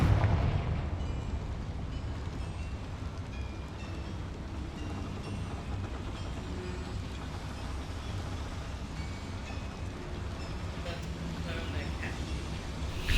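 A Confringo spell blast in Hogwarts Legacy swells into a steady, loud rumbling roar of explosive noise that fills the whole stretch without clear gaps.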